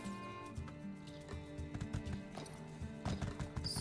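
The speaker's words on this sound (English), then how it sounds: "Horse." A horse's rhythmic hoofbeats clip-clop steadily over a bed of game music in the video game My Time at Sandrock, with a brief sharper flurry of sound near the end.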